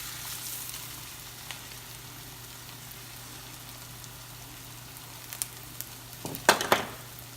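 Food frying in oil in a pan, two pieces cooking at once, gives a steady low sizzle with a louder burst of crackling and spattering near the end.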